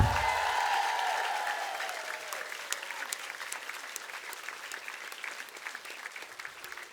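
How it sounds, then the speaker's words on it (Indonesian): A studio audience at a comedy show bursts into applause after a brief tone at the start, and the clapping gradually fades over several seconds. "Tepuk tangan dulu buat para Raden Basah."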